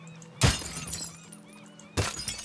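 An object is smashed in the video game Teardown: two sharp shattering crashes, each followed by clattering debris, with a quiet ringing tail between them, fairly near and without speech.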